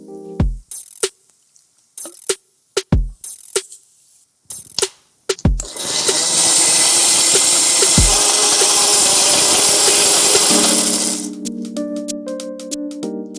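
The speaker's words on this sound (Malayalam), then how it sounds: "അപ്പത്തേക്ക് എന്നാന്നോ ഞാൻ ആ തേങ്ങ ഒന്ന് മഷി പോലെ അരച്ചെടുത്തോട്ടെ" Coconut is ground to a fine paste in a kitchen mixer for Coorg chicken curry. Sharp clicks and knocks come first, then a loud, close, steady grinding whine for about five seconds before it cuts off into quieter clatter.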